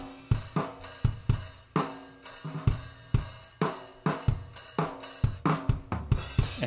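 Rough, unmixed drum kit recorded in a home studio on modest gear: loud, close kick and snare hits in a steady groove with ringing cymbals washing between beats, no voices.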